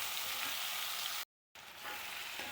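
Onion sautés in a pan for a chicken roast, making a soft, even sizzle that stops briefly and then resumes at a slightly lower level.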